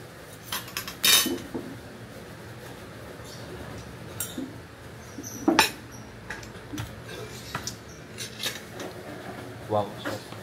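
Cutlery and serving spoons clink against dishes as food is served at a meal, with scattered sharp metallic taps and clinks over a low room background with faint voices.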